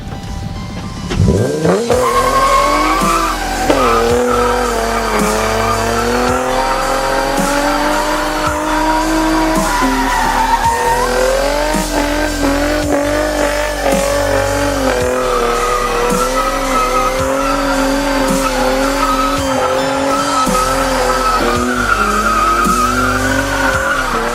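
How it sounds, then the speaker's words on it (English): A 2007 Infiniti G35 Coupe with a custom exhaust drifts, its engine revving up and down repeatedly while the tires squeal loudly and continuously, close by, with no talking. "what better way to introduce a new car to you guys than with a little bit of drifting"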